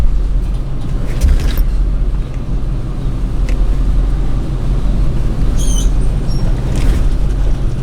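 A car engine idles and rumbles steadily while backing up a trailer, with continuous low road-vehicle noise, a few faint squeaks and clicks, and no speech.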